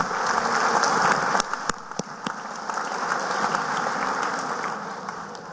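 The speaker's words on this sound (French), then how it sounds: "applaudis tous ces papa, maman et les familles qui viennent soutenir eux là" Applause from a hall full of families at a police promotion ceremony, a dense, steady patter of many hands with a few sharper individual claps standing out, continuing evenly throughout.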